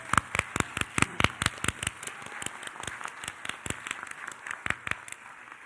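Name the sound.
audience applause for Angela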